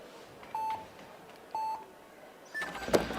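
Start buzzers at a speed climbing final, two short evenly spaced electronic beeps a second apart followed by a longer higher tone, clear against a quiet hushed arena.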